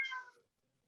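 A house cat gives a single short meow, close and clear, that fades quickly into silence.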